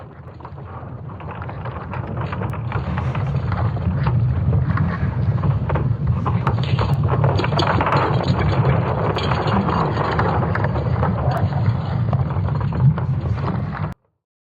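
A deep, resonant drone presented as the sound of a magnetic field. It swells in over the first couple of seconds, holds as a steady, loud, rumbling hum with a hiss on top, and then cuts off abruptly.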